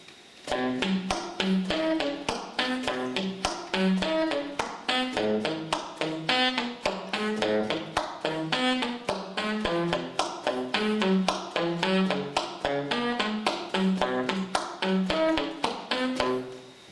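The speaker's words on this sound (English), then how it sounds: "these percussive sounds on 2 and 4 again" Dry percussive saxophone slap-tongue pops repeat on beats 2 and 4 in a steady groove for the whole stretch, punchy and close, each with a short pitched tone under it.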